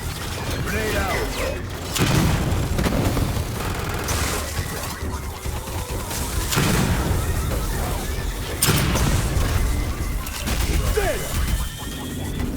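A grenade detonates amid heavy gunfire in the video game Aliens: Fireteam Elite, with loud bursts and crashes recurring through a dense, continuous battle din, and game voices heard over the action.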